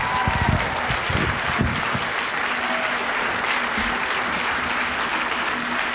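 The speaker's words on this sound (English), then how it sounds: "Keep it going loud for Jim Gaffney" Audience at a comedy show applauds a comedian, steady loud clapping with a few early whoops, sustained evenly across the whole stretch.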